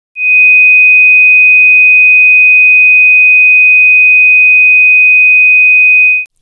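A steady 2,500 Hz sine test tone, pure and unwavering, held at constant loudness for about six seconds with no other sound, a pitch associated with microphone feedback.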